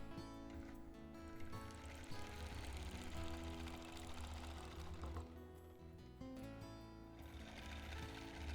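A long-arm quilting machine stitches along the perimeter of a quilt, giving a steady mechanical hum with a rapid needle patter that runs almost unbroken, close and moderately loud, easing briefly near the middle and again toward the end.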